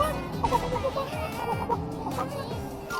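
A person imitates a rooster, making loud, throaty clucking and crowing calls in quick, uneven bursts that fill the short stretch with no other talk.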